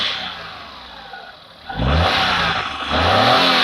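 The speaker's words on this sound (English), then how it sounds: "So let's give it a little rev, and then we'll shut it off and check for the leak." Hyundai Eon car engine revving up from a low idle, rising sharply in pitch and loudness partway through and holding a strong, close, steady roar.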